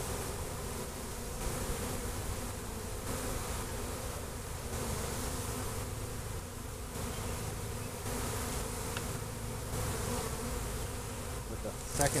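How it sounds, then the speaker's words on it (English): A large swarm of honeybees around a beehive being fitted with a second super drones in a steady, dense buzz throughout, fairly faint and with no speech. "we got a lot of bees flying around"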